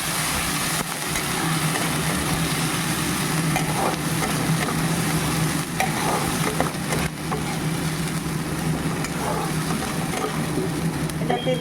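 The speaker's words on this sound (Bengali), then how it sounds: "এটাকে দিয়ে ভালো করে কষাবো।" Boiled onion paste with garlic and ginger frying in a pan, a continuous broad sizzle with low hum beneath, steady and fairly loud, with faint stirring movement.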